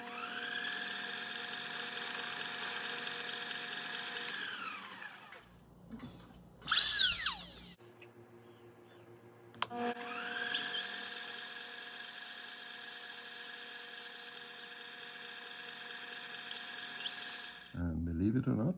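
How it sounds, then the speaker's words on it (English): Turbo carver fitted with a cut-off wheel grinding a small groove into a brass sheave: a steady high-pitched tool whine runs in two long bursts separated by a short pause, with a brief shrill squeal between them. "a little groove in the sheave using the turbo carver"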